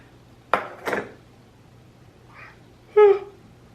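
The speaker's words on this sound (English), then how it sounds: "does anyone else have a problem with their cat like not eating?" A pet cat meows in a kitchen around feeding time, a couple of short calls near the start and a clearer, louder meow toward the end, with faint dish clatter and a low hum underneath.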